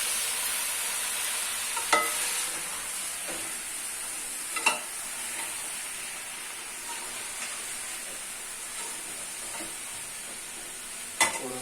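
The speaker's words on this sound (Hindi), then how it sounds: "मिक्स भी कर लेंगे और इसको भून भी लेते हैं" Cauliflower roasts in a pan with a steady hissing sizzle. A few sharp utensil knocks and scrapes mark the stirring, close up and with no voices.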